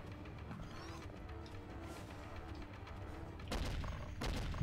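Cannon fire in the Dreamcast game Soldier of Fortune: a faint rumble of distant blasts, then two louder heavy booms near the end.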